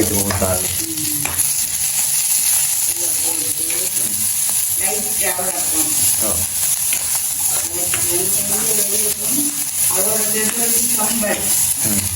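Onion, curry leaves, garlic and fenugreek fry in a pan with a steady, dense sizzle and occasional stirring scrapes, running continuously while someone talks over it.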